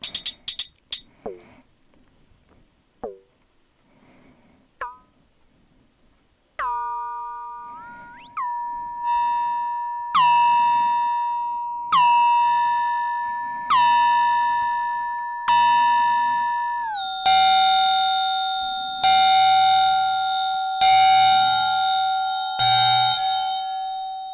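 A bright synthesized metallic cymbal tone from an Elektron Model:Cycles, pitched up, strikes repeatedly at a steady pulse, each hit ringing out and decaying, rising in pitch and brightness after a few soft opening taps.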